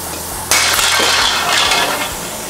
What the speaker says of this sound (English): I just broke a bowl.